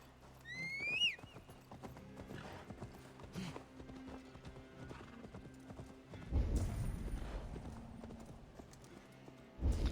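Steady clip-clop of video game horse hooves at a walking pace, with a short whinny near the start and some faint background noise.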